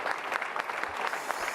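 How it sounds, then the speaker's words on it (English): An audience claps steadily in dense, continuous applause, loud and close, with no voices breaking through. "Oh, stop clapping."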